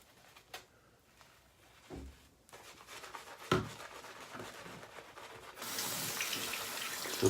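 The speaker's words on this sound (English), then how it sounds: "I'm just going to pick some water up from the tap and let it drip" Tap water drips and splashes onto a shaving brush loaded from a new soap puck. Scattered close drops and taps build into a steadier running-water hiss near the end, with no speech.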